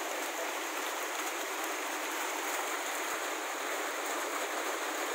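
Steady heavy rain pours down outdoors where a small child plays in the rainwater, a continuous bright hiss of falling water with no voices.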